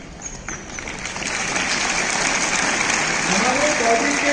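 Many students clap together in a school hall, a broad crackling wave of applause that builds and holds steady and loud throughout, with some voices mixed underneath.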